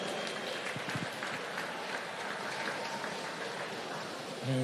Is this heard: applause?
yes